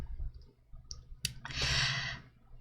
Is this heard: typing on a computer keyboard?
yes